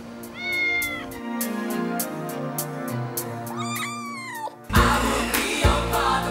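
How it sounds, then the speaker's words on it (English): A kitten meows several times, drawn-out high cries rising and falling close by over music, followed by a sudden burst of louder sound at the end. "that's the cutest cat I've ever seen in my life"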